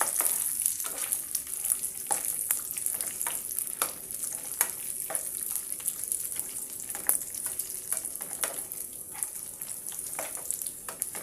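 Bread slices deep-frying in hot oil for double ka meetha, a steady close crackling sizzle with occasional sharper pops and bubbling bursts throughout, no talking.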